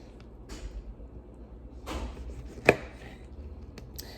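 Knife chopping cabbage into big chunks on a cutting board for soup, a few sparse soft thuds with one sharper knock, quiet and close.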